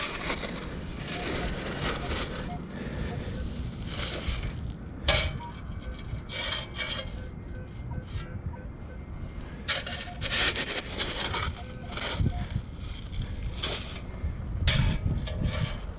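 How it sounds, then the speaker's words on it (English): A heavy-duty sand scoop digs into rocky sand on a small Connecticut beach during metal detecting, giving repeated close, gritty scraping and crunching bursts in an irregular rhythm with no talking. "This sand scoop is very heavy duty for this type of digging."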